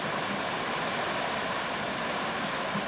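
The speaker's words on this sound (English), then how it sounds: "the water is flowing through the rubbish there," River water rushes steadily over a rubbish blockage in weir flow, a dense continuous roar without pauses.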